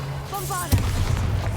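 A Bombarda blast erupts in Hogwarts Legacy, a single booming spell explosion that lands suddenly and rumbles on with debris, following a moment of talking in the cave.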